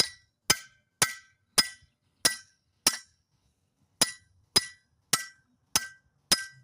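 A big chisel is hammered against a seized hub bearing on a Volkswagen, making about a dozen sharp metallic clinks that come in a quick run, pause briefly, then resume, close and loud with no talk.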